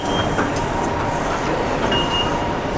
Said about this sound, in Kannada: ಇದು ಲಾಸ್ಟ್ ಮೆಟ್ರೋ ಆಯಿತು. MRT ಅಲ್ಲ, LRT.